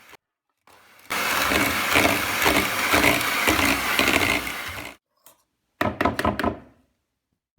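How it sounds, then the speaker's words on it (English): Electric beater whipping icing sugar into a vegan gluten-free buttercream frosting, a loud close motor whir with rattling beaters for about four seconds, then a few short bursts after a pause. "Repeating the same process of beating using an electrical beater."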